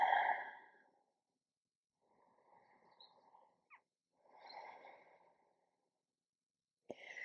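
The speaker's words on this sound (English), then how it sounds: "Take a couple of full breaths." Slow, deep breaths during a standing vinyasa yoga practice, soft airy inhales and exhales close to the microphone, separated by quiet gaps, with a faint click near the end.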